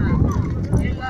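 Donkey hooves clip-clopping on a donkey ride at sunset, a few close, uneven thuds under wind noise while people talk nearby.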